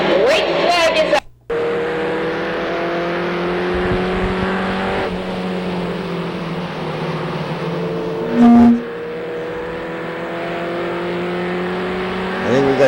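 Race trucks circling Seekonk Speedway during a 1998 truck feature, engines droning steadily with rising and falling tones and a brief loud burst as one passes, while a commentator talks over them.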